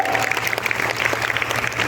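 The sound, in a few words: children clapping loudly at a school event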